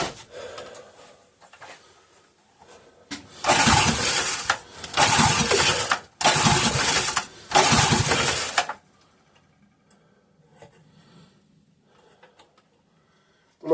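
A 3.5 hp Briggs and Stratton small engine cranks and sputters in four loud, rough bursts close by, each cutting off abruptly, followed by quiet.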